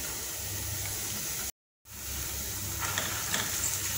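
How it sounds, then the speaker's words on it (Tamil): Chicken lollipop masala with onion and tomato ketchup sizzles and is stirred in a pan over a high flame, a steady close frying hiss with scraping stirs, cut by a brief silent gap midway. "நல்லா ஹை ஃப்ளேமில் வச்சு 1 நிமிஷம் நல்லா கலந்து விட்டுக்கலாம்"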